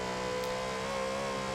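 A Lexus RC F V8 engine in Forza Horizon 4 revs hard with a steady, sustained engine whine and tonal drone, rising slightly and heard alone.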